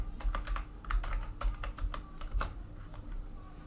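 Quick, light keystrokes on a computer keyboard tap out a short word up close, a brisk run of clicks over a faint steady hum, with no talking.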